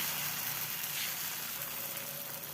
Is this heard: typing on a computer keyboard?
no